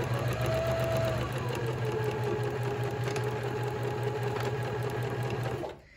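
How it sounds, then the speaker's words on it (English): A sewing machine runs a backstitch near a double pin on a flat iron case project, humming steadily and loudly at close range for several seconds before stopping abruptly at the end, with no talk. "As we're getting back here to our double pin, we want to make sure we backstitch."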